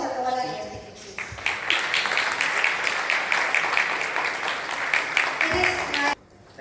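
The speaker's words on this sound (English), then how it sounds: "Please, may I request hundreds of applause for all our guest dignitaries." Audience applause for guest dignitaries at a space conclave: sustained clapping from a large crowd, steady for about five seconds before cutting off abruptly near the end.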